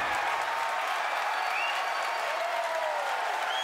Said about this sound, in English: if you can hear me over the cheering